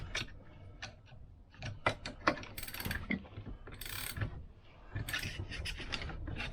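Socket ratchet clicking in short bursts as it turns on a Vespa scooter crank, close and fairly quiet, with scattered metallic clicks and handling noises.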